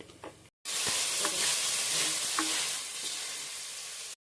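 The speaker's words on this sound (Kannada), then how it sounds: "ಇವಾಗ ಈರುಳ್ಳಿ ಕೆಂಬಣ್ಣಕ್ಕೆ ತಿರುಗಿದೆ ಈ ಹಂತದಲ್ಲಿ ನಾವು ಟೊಮೆಟೊನ ಸೇರಿಸ್ಕೊಳ್ಬೇಕು" Chopped tomatoes tipped into a pan of browned onions, setting off a loud, steady sizzle with a few sharp scrapes of stirring, close and alone for about four seconds.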